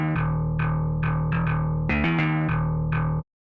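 A heavily distorted low bass line, a slap bass sound pushed through Blood Overdrive on a drive channel in FL Studio, plays a steady sequence of about ten plucked notes over a constant low tone before cutting off abruptly.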